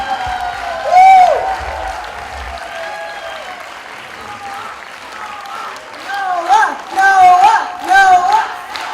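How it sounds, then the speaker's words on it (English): An event audience claps and cheers for Noah, with loud whoops and shouted voices rising in bursts over a lighter bed of clapping and crowd noise. "Clap for Noah!"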